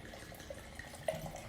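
Wine, a Riesling and Pinot Grigio blend, poured into a glass: a soft, faint gurgle of liquid with a small splash near the end, quiet and close with no talking.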